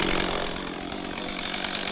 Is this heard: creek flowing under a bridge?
no